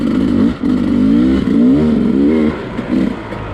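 A Sherco 250SE dirt bike engine revs up and down in low gears while riding, a loud, close, buzzing two-stroke drone with short dips between throttle pulls.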